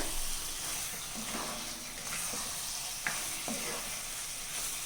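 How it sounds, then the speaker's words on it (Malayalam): Homemade lemon pickle stirred in a pan, a soft continuous sizzle beneath repeated scraping strokes of a spoon against the pan, fairly quiet and without talk. "നല്ലോണം ഇളക്കി മിക്സ് ചെയ്തു"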